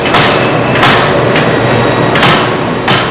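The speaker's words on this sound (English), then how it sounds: "Knocking the ceramic covering from the metal casting is a dusty, noisy business" Hammer blows knock ceramic shell covering off a metal casting, five loud, sharp impacts at irregular intervals over a constant roar of background machinery.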